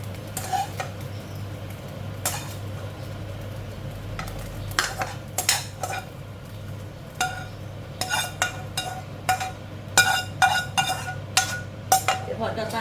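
Fried tilapia is stirred and dry-roasted in a pan for larb, metal utensil scraping and clinking against the pan in repeated bursts over a faint sizzle, close and clear with no talking.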